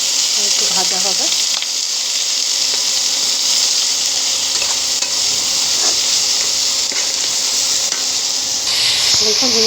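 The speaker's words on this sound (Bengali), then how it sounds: "দেখুন ঝিঙেটা অনেক ভাজা হয়ে গেছে এবং ঝিঙেটা দিয়ে জল ছাড়ছে" Ridge gourd and onion fry in oil with nigella seeds, giving a loud, continuous sizzle with stirring scrapes throughout, close up.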